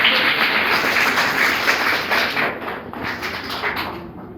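Audience at a free health camp in Tarfile layout, Kalaburagi, clapping in a steady, dense wash of applause that fills the whole stretch and eases slightly toward the end.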